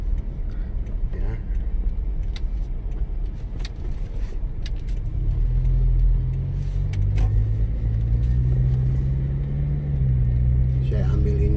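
A car drives through the Kelapa Lima area of Kupang, recorded from inside the cabin: a steady low engine and road rumble with faint rattles, while someone talks throughout.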